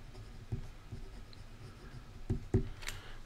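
A Penbbs 355 fountain pen with a number 6 fine steel nib writes on paper, making faint, soft scratchy strokes with a few slightly louder taps, close and quiet, with no talk.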